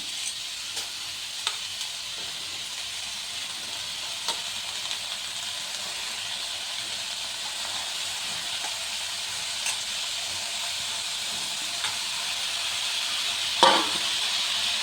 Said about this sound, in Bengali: সবজিটা একটু ভাজা ভাজা করে আমি এই ডগগুলো কেটে রেখেছিলাম ওগুলো সব দিয়ে দিলাম।